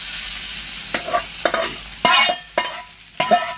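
Dry red chillies and curry leaves sizzle in hot oil as tempering for gongura pachadi. A steady fry crackles under several scraping stirs of a spoon in the pan, close up, with no voices.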